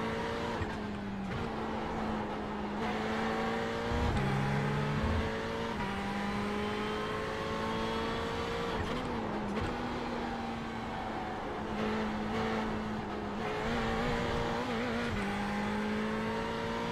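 GT3 race car at Monza in iRacing, engine note climbing steadily through the gears with brief dips at each upshift, loud and continuous from start to finish.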